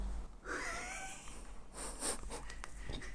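A cat making a short vocal sound close by at a makeup table with a compact palette, a brief rising cry followed by light rustling and handling noises.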